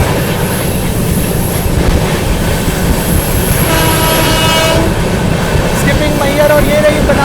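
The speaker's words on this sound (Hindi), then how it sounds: "और सामने की ओर लगी हुई है आप लोगों की बनारस एलटीटी सुपरफास्ट एक्सप्रेस।" The Banaras LTT Superfast Express rumbles loudly past Maihar railway station, with continuous close wheel and carriage noise and a faint squeal or horn tone creeping in near the end.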